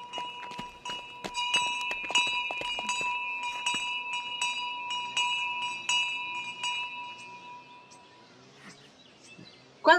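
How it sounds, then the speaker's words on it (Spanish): A hand bell on a street theatre cart rings repeatedly in quick, bright strikes that shimmer and sustain, loud and close, then fade toward the end before a brief sharp noise. "tocaba la campana y esperaba"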